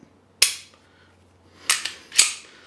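The double-action-only pistol's trigger is pulled: three sharp, crisp mechanical snaps, one alone and then two close together, clear against near silence.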